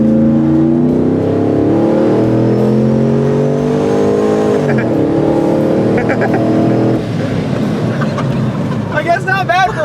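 A supercharged full-size truck with 373 gears and four people aboard accelerates hard, its engine roaring and climbing in pitch through the gears, loud and close from inside the cab, with voices cheering over it.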